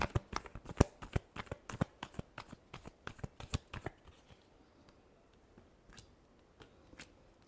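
Tarot cards are shuffled in a rapid run of crisp, close riffling snaps that thin out into a few scattered flicks near the end, with no voices.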